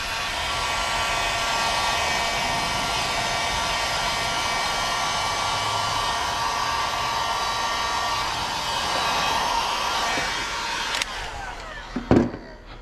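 A heat gun blows hot air onto window tint film on the front window of a 2018 Chevy Equinox, a loud continuous whooshing hiss that holds steady, then cuts off near the end with a few clunks.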